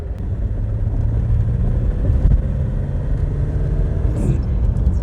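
BMW car engine running while driving, a loud steady low rumble with road and cabin noise. Someone talks over it.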